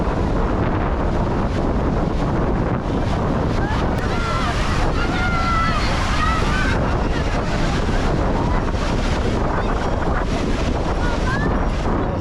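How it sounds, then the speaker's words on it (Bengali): Rough sea surf crashes continuously at Puri beach with strong wind buffeting the microphone, a dense, loud roar throughout with faint voices underneath. "সুন্দর ঢেউ মানে সমুদ্র এখন কিন্তু পুরো উত্তাল"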